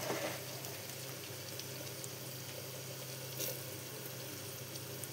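Tempering spices and onions fry in hot oil for a ridge gourd curry, giving a steady, even sizzle that stays fairly soft throughout, with no talking.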